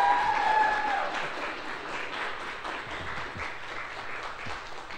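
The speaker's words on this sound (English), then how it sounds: "Let's give her a big round of applause." An audience gives steady, sustained applause after a lunch talk about Gotland, a dense wash of clapping from a crowd filling the room.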